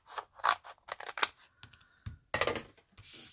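Scissors snip through a piece of card during papercraft work on a fold-out gift card holder, a string of crisp, close cuts in quick irregular bursts with brief pauses between them.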